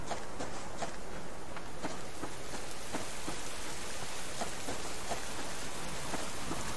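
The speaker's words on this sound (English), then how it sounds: "I told you it was gonna rain." Steady rain falls in the survival video game Subsistence, a dense, even hiss of drops on surfaces with scattered louder patters throughout, continuous and fairly close, with no voices over it.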